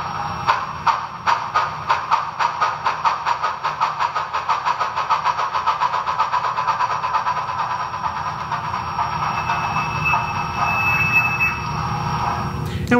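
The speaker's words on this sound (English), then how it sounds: "Then we'll bring the locomotive to a stop." A Tsunami2 sound decoder plays a Challenger steam locomotive, with loud, steady chuffing exhaust beats that slow gradually and continuous hissing and mechanical tones underneath, with no talk over it.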